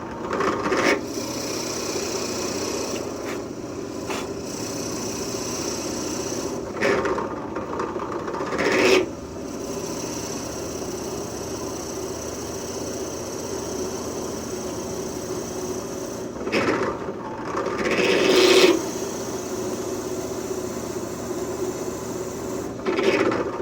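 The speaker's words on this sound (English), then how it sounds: "Back the drill bit out every little bit to help clear the shavings out of the hole." A drill bit bores into a wooden pen blank on a lathe, making a steady grinding, rasping whir that repeatedly pauses and then swells again as the bit is backed out to clear shavings.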